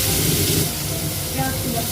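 Potatoes and green cardamom sizzle in hot oil in a wok, a loud, continuous hissing fry that fills the short moment.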